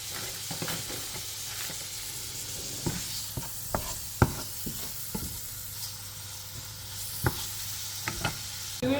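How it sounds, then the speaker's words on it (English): Shrimp sizzle steadily in a hot pan, a constant frying hiss broken by occasional louder pops and the clinks of stirring. "So now we can add the shrimp"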